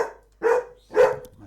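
Two loud barks from a dog nearby, spaced about half a second apart, followed by a softer trailing yip, in an otherwise quiet room.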